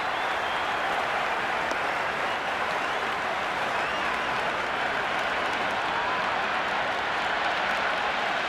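A stadium crowd in the cricket video game Cricket 26 roars and claps during an England versus New Zealand match, a steady, dense wash of distant crowd noise that holds at even loudness throughout.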